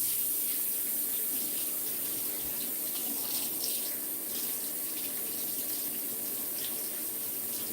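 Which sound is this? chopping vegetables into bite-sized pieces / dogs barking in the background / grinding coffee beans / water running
water running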